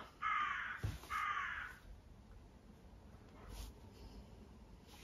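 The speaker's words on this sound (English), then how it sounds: "If it's not the seagulls, it's the crows." Two loud, harsh crow caws close together near the start, then a fainter call a few seconds later over quiet outdoor background.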